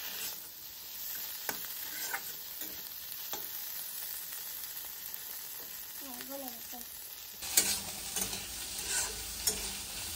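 Sliced bitter gourd (ucche) fries in a pan with a soft, steady sizzle, while a spoon scrapes and stirs it now and then and someone talks briefly over the cooking.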